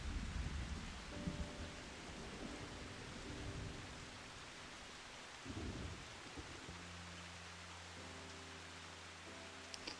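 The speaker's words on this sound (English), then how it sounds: "We're all standing in the rain very thematically." Steady rain pours in the game Final Fantasy XIV: Shadowbringers, a dense, even hiss running the whole time under low sustained musical tones that shift partway through, with a brief rumble near the middle.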